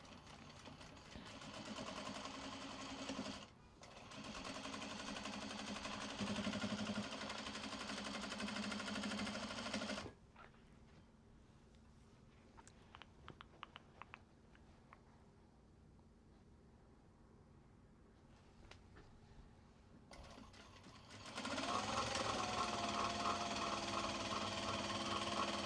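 A sewing machine stitching a small fabric traveller sling, running in steady whirring bursts, a pause with quiet clicks and handling in between, then the motor revs up again near the end.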